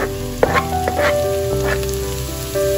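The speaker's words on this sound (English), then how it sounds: "First we are frying the onion a little bit, not much." Red and white onions frying in a pan give a loud, steady sizzle close up, broken by a few short clanks and scrapes of a utensil stirring.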